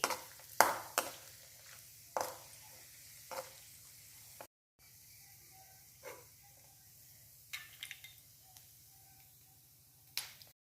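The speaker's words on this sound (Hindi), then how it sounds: "इसको भी ऐसे घी में तलकर फिर निकाल लेंगे।" Chopped cashews and almonds fry in ghee in a home kitchen, giving a faint, steady sizzle with scattered sharp pops and clinks of stirring, close and with no talk.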